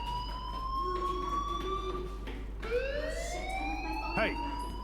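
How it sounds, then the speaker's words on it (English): A school fire alarm in Life is Strange sounds as a loud, sustained electronic wail that holds, breaks off, then resumes with a rising sweep, while a voice speaks over it. "Hey, do you hear that fire alarm?"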